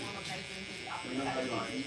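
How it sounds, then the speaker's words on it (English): A Mr. Cartoon electric shaver buzzes faintly while cutting hair during a haircut, a low steady hum sitting under nearby speech. "I'll use the Mr. Cartoon electric shaver"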